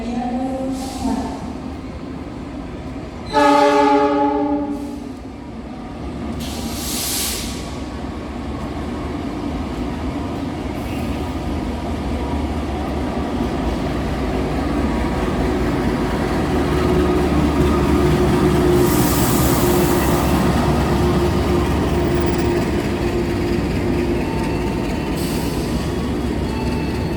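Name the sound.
Wijaya Kusuma passenger train arriving at station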